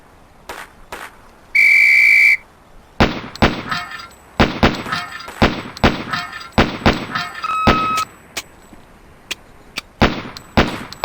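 A long referee whistle blast is followed by rapid, sharp gunshots at steel pepper poppers, fired in quick irregular bursts, in the police SWAT shooting-range drill of the Police Quest: SWAT game.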